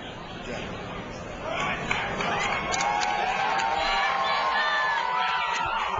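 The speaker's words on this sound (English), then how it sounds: "Good crowd support for Lavoie." A crowd at a fighting event cheers and whoops in support of a fighter, building in volume after the first two seconds, with scattered shouts and voices mixed into the steady roar.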